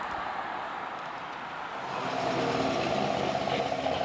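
A pre-war vintage car engine runs in a restoration shop, its low mechanical rumble swelling noticeably louder partway through and holding steady, close by and without talk.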